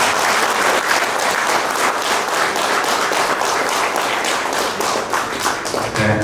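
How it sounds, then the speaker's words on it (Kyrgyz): Crowd applause at a 130th anniversary commemoration gathering in Kyrgyzstan, loud and continuous with dense overlapping claps for about six seconds. "азыр кол чабыңыздар менен"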